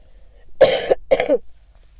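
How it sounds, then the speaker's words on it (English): Two separate harsh, rasping coughs from one person, close and clear, with a short pause between them and quiet on either side. "This nasty ass cough I got."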